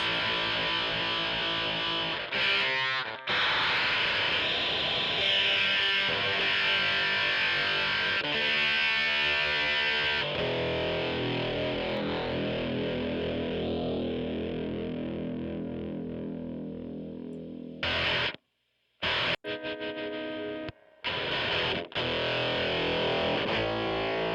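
Heavily distorted electric guitar through a Dan Armstrong-style effects pedal, sustained buzzy chords with a few abrupt cutouts near the end.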